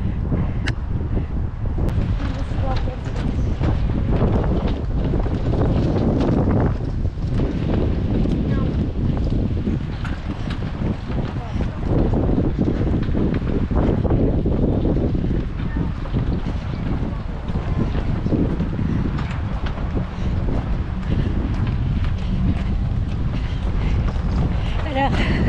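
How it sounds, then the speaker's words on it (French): Strong wind roars steadily across the microphone on the coast of Lanzarote in early January, a constant buffeting rush that fills the whole stretch with no letup. "Il y a du vent pour rafraîchir un peu le soleil."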